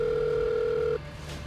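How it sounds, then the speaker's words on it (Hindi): Telephone tone while dialing a number on a new phone, one steady electronic tone lasting about a second that cuts off abruptly into a quiet background. "मैंने अपना फोन उठाया। एक नया फोन जो पुराने वाले से कई बेहतर था, और एक नंबर डायल किया।"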